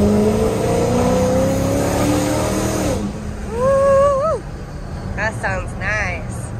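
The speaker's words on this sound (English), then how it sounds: "Listen to the supercharger." A supercharged 2006 Dodge Charger SRT8 with a Procharger revs hard, its engine tone climbing with a whining supercharger edge, then easing off into idle while voices talk over it.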